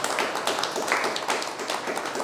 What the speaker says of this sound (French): j'aimerais que vous applaudissiez pour nos intervenants sur le plateau et pour vous-même